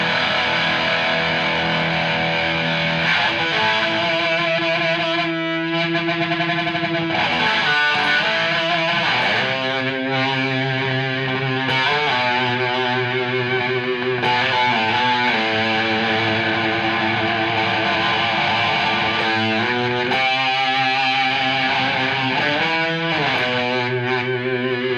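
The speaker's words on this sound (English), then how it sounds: "5 pedal combination of overdrive and distortion" Electric guitar played through five stacked overdrive and distortion pedals with a noise gate, giving a thick, saturated tone of sustained chords and notes that changes in steady phrases and stays loud throughout.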